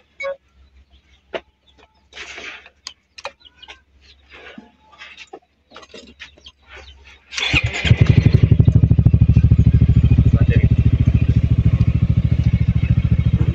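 Scattered clicks and clatter give way to a motorcycle engine that starts on a newly ordered battery reading 13.4 volts and settles into a steady, loud idle close by.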